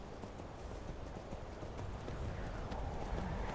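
A horse's hooves clip-clop at a steady, quick pace in Skyrim, fairly close and continuous for a few seconds.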